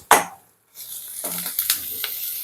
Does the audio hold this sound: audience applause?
no